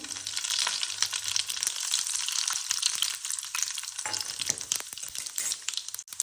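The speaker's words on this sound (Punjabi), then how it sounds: "ਚੰਗੀ ਤਰ੍ਹਾਂ ਤੇਲ ਗਰਮ ਹੋ ਗਿਆ ਥੋੜਾ ਜਿਹਾ ਮੇਥੀ ਦਾਣਾ ਪਾਵਾਂਗੇ ਅੱਧਾ ਕ ਚਮਚਾ ਜੀਰਾ ਸੌਂਫ ਅੱਧਾ ਕ ਚਮਚਾ ਰਾਈ" Fenugreek, cumin, fennel and mustard seeds fry in hot oil as a tempering for amla chutney, giving a dense, even, crackling sizzle with small pops and a few stirring scrapes, close and without talk.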